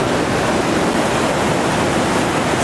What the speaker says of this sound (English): Riding that sloping tongue down there, 14-foot waterfall, Sweets Falls is.